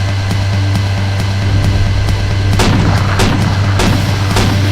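Gunfire in the video game GTA Zombie Andreas during a first-person chase, a steady series of loud sharp shots over a constant droning game backdrop, no speech.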